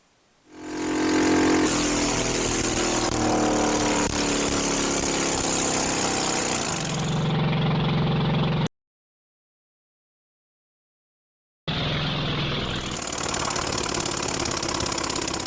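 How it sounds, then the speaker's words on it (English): Yamaha SR500 single-cylinder motorcycle engine with a failed thread repair, its spark plug blowing out of the cylinder head: a loud, rough running roar that shifts to a lower, harsher blowing tone partway through, then cuts out and resumes. "the spark plug decided to leave the engine, and it was basically a failed thread repair"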